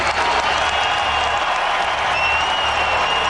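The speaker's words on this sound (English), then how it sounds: "And the crowd responds" A packed arena crowd at the 2003 NBA All-Star Game applauds and cheers for Michael Jordan's basket, a dense, loud, sustained roar of clapping throughout.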